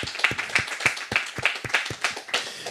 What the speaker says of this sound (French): On peut vous applaudir encore une fois, absolument.